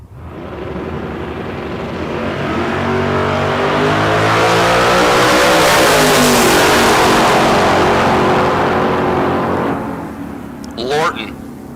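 A 1970 Mustang and a Vega launch at a drag strip, their engines rising in a loud, sustained revving roar that builds, peaks and fades as they pull away. An announcer talks over the noise.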